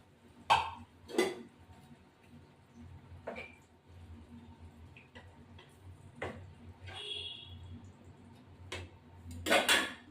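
A metal lid is set on a pan of parshe fish cooking in mustard sauce, giving several sharp, close clinks and clatters spread across otherwise quiet kitchen background.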